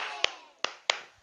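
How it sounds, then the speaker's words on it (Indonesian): Three sharp, separate hand claps in a storytelling session for children, evenly spaced about half a second apart, close and crisp against a quiet background. "tepuk 3 kali."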